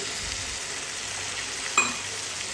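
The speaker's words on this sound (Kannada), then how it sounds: "ಇವಾಗಿಲ್ಲಿ ನಾನು ಸ್ವಲ್ಪ ನೀರನ್ನು ಆ್ಯಡ್ ಮಾಡ್ಕೋತಾ ಇದ್ದೀನಿ" Water is poured into a hot frying pan, giving a steady, close hiss of sizzling with a faint clink partway through and no voices.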